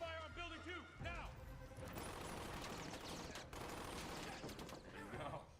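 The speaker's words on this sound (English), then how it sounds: "Give me suppressive fire on building 2, now!" Heavy gunfire sweeps a building in the video game Valorant, a dense, continuous rattle of shots and impacts that follows a brief voice at the start and fills the rest.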